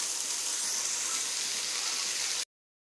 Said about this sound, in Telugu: ఇప్పుడు 8 గ్లాసులు వాటర్ వేసుకోవాలి.